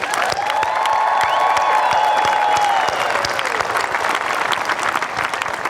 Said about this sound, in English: How about a round of applause for the class of 2019?